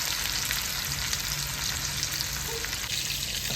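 Mackerel frying in hot oil on a flat tawa gives a continuous, even sizzle close by that holds at a steady level throughout, with no stirring or voices.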